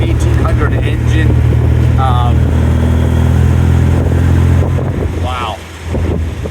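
An MG A sports car with the larger 1800 engine runs steadily, its loud, continuous low drone and rumble heard from inside while driving, with wind buffeting and someone talking over it.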